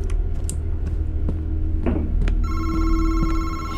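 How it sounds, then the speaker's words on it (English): A telephone rings in a horror video game, its ring starting partway through and holding steady over a low droning ambience, with faint clicks and a brief rising whoosh before it. "What phone is that?"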